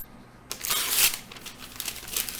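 A sheet of paper is crumpled close by after a quiet start, giving a dense, crackling rustle that peaks early and then continues in smaller crinkles, with no talking.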